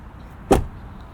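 The electric door release of a 2023 Lexus RZ 450e pops the door open with a single short, sharp click-thunk, close and alone against quiet background.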